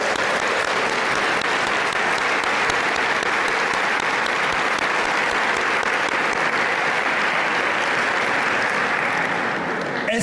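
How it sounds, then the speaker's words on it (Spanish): An audience applauds the missionaries at a Catholic talk, with dense sustained clapping filling the room for about ten seconds before tapering off at the end. "Un aplauso a los misioneros."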